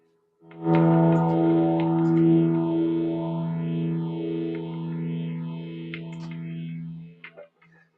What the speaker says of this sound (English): We got a chorus, a phaser, a reverb, and 2 delays.